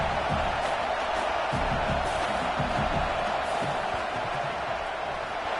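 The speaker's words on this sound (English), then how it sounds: "This crowd trying to do its part to get inside the kicker's head." A steady roar from a college football stadium crowd during a field goal attempt, broad and continuous at an even level with no distinct cheers standing out.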